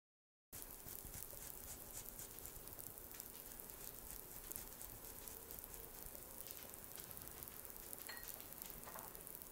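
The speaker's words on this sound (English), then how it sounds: "We're going to start by taking a stick of butter and melting that" After a brief silence, a stick of butter melts in a pan for stuffed mussels, giving a faint but steady, even sizzle that lasts to the end without talk.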